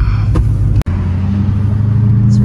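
Dodge Hellcat SRT engine rumbling steadily at close range, with a deep continuous drone and a brief dropout partway through, no voices.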